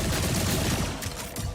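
Rapid gunfire from the Borderlands 4 video game, a dense, loud barrage of overlapping shots and impacts filling the whole stretch with no pause.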